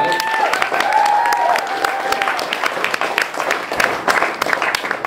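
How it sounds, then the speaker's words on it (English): Applause from an audience at an off-grid festival talk, many hands clapping in a lively irregular patter with a brief whistle early on, steady and fairly close throughout. "give him a round of applause"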